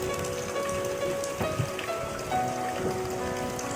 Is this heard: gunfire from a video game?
no